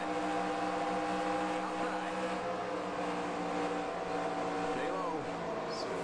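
Steady droning engine of an ARCA stock car from the 2004 mod for the racing sim NASCAR Racing 2003 at Atlanta, its pitch held fairly even with the throttle lightly feathered, surrounded by faint engine noise from other cars.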